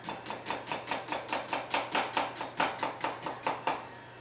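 A knife chops an onion on a cutting board in a quick, even rhythm, about seventeen crisp taps in four seconds, close and clear with no voices.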